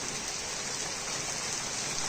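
Sudden pre-monsoon rain in the Konkan falls steadily, a dense, even hiss of drops on surfaces that stays constant and moderately loud for the whole short stretch, with no voices.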